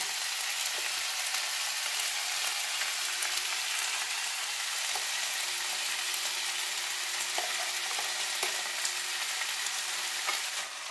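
Ground spice paste sizzles with mixed vegetables, including capsicum, frying in a pan. A loud, constant hiss runs close and unbroken, with occasional light scraping clicks as the mixture is stirred.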